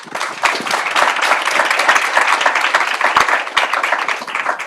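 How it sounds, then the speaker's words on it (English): Audience at an evening panel discussion on AI and healing applauding the panel, a loud, continuous wash of many hands clapping with sharp individual claps standing out throughout. "Let's give a round of applause."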